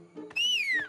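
A single short whistle with a bright tone that rises slightly and then slides downward, heard clearly over faint background noise.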